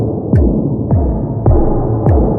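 Four deep sub kick drum hits land at a slow, even pace, each a booming low thud with a falling pitch and a lingering tail.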